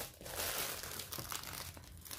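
Glittery tissue wrapping paper crinkles close up, a continuous rustling and crackling with brief bursts as the sheets are handled.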